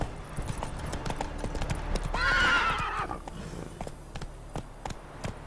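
A horse in The Witcher 3: Wild Hunt galloping with rapid clip-clopping hooves, breaking into one loud whinny midway, the hoofbeats carrying on afterward; a faint voice surfaces only briefly.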